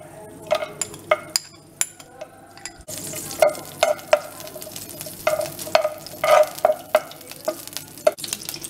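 Cashew nuts fry in hot ghee for carrot halwa, a soft sizzle running beneath repeated sharp clinks and scrapes of a spoon stirring against the pan, close and without talk.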